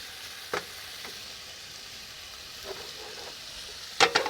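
Capsicum, carrot and spring onion frying on a camp stove during 4WD camp cooking, a steady soft sizzle broken by a few sharp utensil clicks and scrapes.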